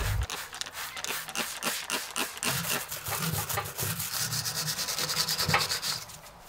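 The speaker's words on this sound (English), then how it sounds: "rub it off with a damp brush or a cloth" A brush scrubbing rust remover off a rusty metal cargo barrier for a 90 Prado, with steady rapid back-and-forth rubbing strokes, close and fairly loud, no talking.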